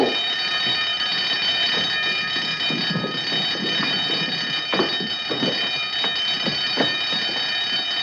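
An alarm bell rings continuously with a harsh, steady metallic tone in a 1952 suspense film, loud and unbroken throughout, with faint knocks and movement beneath it.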